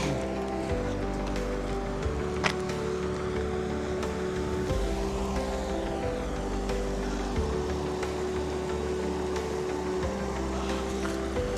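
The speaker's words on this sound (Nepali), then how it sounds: "यहाँको यो पानी कलकल बगेको आवाज सुन्दा पनि कस्तो आनन्द आउँदो होइन" Water flows steadily at Fogg Dam near Darwin, a continuous broad rushing wash with a low rumble underneath, even and moderately loud throughout with no voices.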